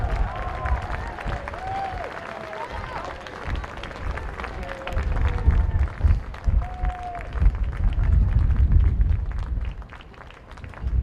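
Crowd at a polo club grandstand cheering and applauding as the polo teams pass in front, a steady broad roar of clapping and voices with scattered shouts throughout.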